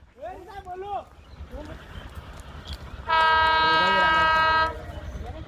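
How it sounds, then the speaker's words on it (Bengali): Train passing with a long, loud, steady horn blast in the middle, over continuous rumbling rail noise; voices talk nearby before the horn. "আর একটা ট্রেন আসতেছে"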